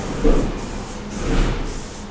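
A can of spray paint used for resin pieces, murals and backgrounds hisses in two short, close bursts about a second apart, with a steady faint background hiss between them.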